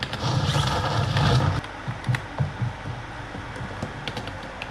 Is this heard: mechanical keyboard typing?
yes